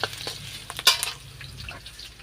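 Onions frying in a pan at home, soft crackling sizzle with a few stirring scrapes and light utensil clinks, close and fairly quiet, no talk.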